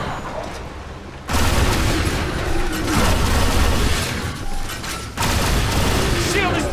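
Heavy gunfire aimed at a turret in The Bureau: XCOM Declassified pours out in loud, continuous bursts with mechanical clatter and booms, a fresh barrage surging in near the end, with voices calling out over it.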